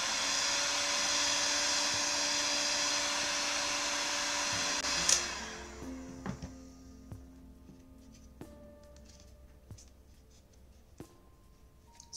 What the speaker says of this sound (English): So we are going to heat it up with our heat gun